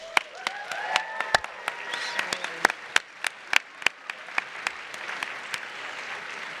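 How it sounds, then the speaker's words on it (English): Applause from an audience at the Game Audio Network Guild awards ceremony, a moderate crowd clapping with several sharp, loud individual claps standing out near the listener, tapering toward the end. "Let's give these students another round of applause."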